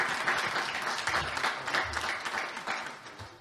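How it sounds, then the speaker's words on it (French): An audience at a municipal sports conference opening in Normandy applauds a former sports minister, a steady burst of many hands clapping, fairly close and continuous throughout. "vous pouvez l'applaudir, merci Marie-Georges."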